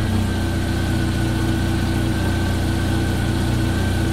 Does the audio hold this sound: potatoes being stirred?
no